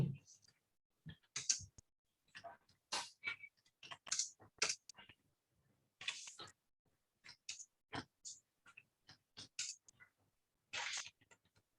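Short bursts of clicky computer keyboard typing, close and fairly clear, separated by brief silent pauses, with no talking.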